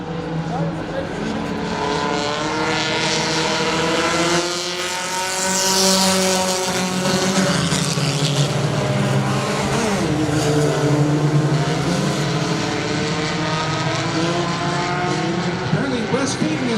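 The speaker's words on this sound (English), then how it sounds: "On the back bumper, down the back straightaway, that 76 is Taylor Feet" Race cars at Saratoga Speedway roar down the back straightaway in a pack, engines droning loudly and continuously with shifting pitch, under a race announcer's ongoing commentary.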